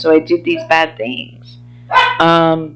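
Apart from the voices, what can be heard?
dog barking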